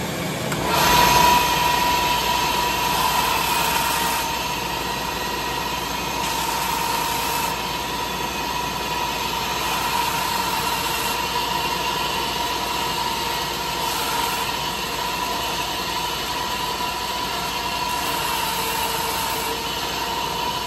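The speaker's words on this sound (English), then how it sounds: "carefully on the belt sander, I'll show you how I shape them on the belt sander" A belt sander shapes a horn or antler tip overlay on a self-bow longbow, running as a loud, steady whirring grind with a constant motor tone and slight rises and dips as the piece is pressed to the belt.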